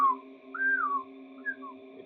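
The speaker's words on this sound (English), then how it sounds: "As you whistle" A person whistles in a room, a few short gliding notes, the first rising and falling, set over a steady hum of background tones, fairly clear and close.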